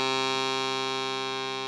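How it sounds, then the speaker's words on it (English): Concertina reed sounding a single sustained note, a steady buzzy tone rich in harmonics, held alone for nearly two seconds with a slight fade. "this will sound more like a proper reed."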